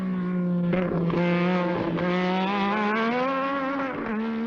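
A 1983 Lotus 93T-Renault turbo Formula 1 car pushed hard during a test at Paul Ricard, its engine a loud, close, continuous high whine whose pitch climbs steadily with brief dips as the driver shifts gears.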